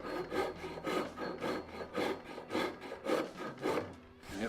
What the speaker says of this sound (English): This is a Japanese style rasp.